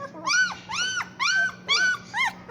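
Three-week-old puppies whine and whimper in a series of five rising-falling high cries, close and fairly loud over a faint background hum.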